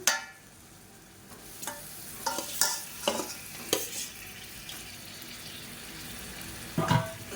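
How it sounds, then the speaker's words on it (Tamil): Marinated chicken goes into a hot pan and is stirred, with scattered sharp clinks and scrapes of a spoon over a soft, steady sizzle, fairly quiet and close. "இப்போ நம்ம ஊற வச்சு வச்சுருக்க அந்த சிக்கனை சேர்த்துக்கலாம்."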